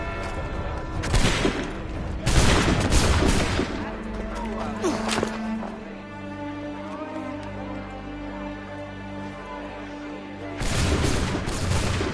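Musket volleys in Assassin's Creed III Remastered: several loud, booming bursts of massed gunfire rip out near the start and again at the end, with a rumbling lull in between.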